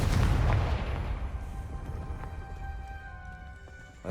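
A Confringo blasting spell detonates in Hogwarts Legacy: a single heavy, close explosion that hits hard at once, then a rumbling tail that slowly fades over a few seconds, with a sharp crack right at the end.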